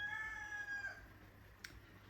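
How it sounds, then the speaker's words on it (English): A rooster crows faintly in the distance, a thin drawn-out call over low background hum, with a brief sharper noise near the end. "the rooster, I swear, comes under the house and starts talking"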